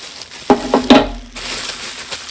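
Crinkling plastic packaging being torn and pulled off a newly unboxed Elite Gourmet popcorn popper, a few sharp rustling bursts close up followed by softer handling noise.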